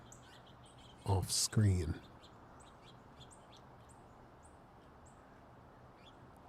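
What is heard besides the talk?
red-bellied woodpecker and other winter birds calling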